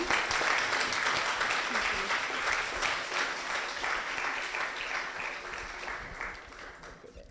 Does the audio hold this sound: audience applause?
yes